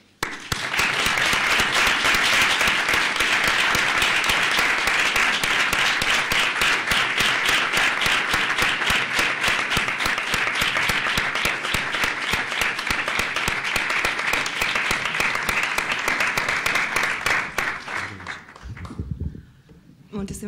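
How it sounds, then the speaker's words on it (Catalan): A large audience at a town's main festival proclamation gives sustained, loud applause lasting nearly twenty seconds, dense and even throughout before fading out at the end. "rep el nostre aplaudiment i felicitació"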